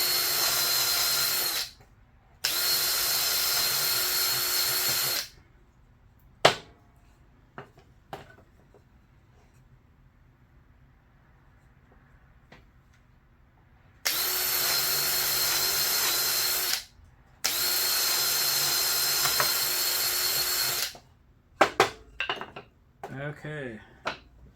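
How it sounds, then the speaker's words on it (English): A power drill bores holes through wood for a homemade foil and plastic-wrap dispenser. Two pairs of loud, sustained whining bursts are separated by quieter stretches of clicks and handling noise, with clattering at the end. "We'll go right through that hole that I drilled and drill out the other one."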